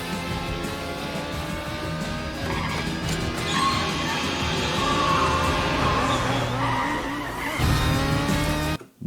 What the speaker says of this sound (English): you do not get to turn 90 degrees by skidding your rear wheel